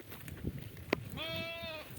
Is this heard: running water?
no